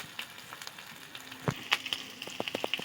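Spices, turmeric and sugar sizzling in hot oil in a pan over ginger paste, a soft crackling fry with scattered sharp pops and spits, close and fairly quiet.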